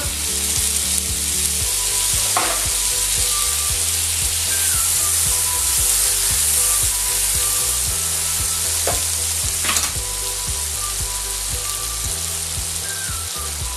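Frog legs fry in garlic butter with cherry tomatoes, salt and parsley, giving a constant close sizzle with occasional stirring scrapes and clicks, and music playing faintly underneath.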